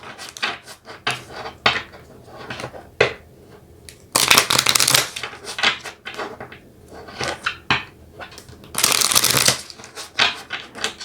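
A deck of tea leaf fortune-telling cards is shuffled by hand in a quiet room, giving two loud papery riffle bursts among softer handling rustles and taps, with no talking.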